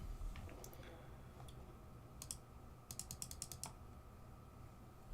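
Computer mouse clicking at a desk while editing in After Effects, faint scattered clicks, then a quick run of several rapid clicks, heard alone against low room hum.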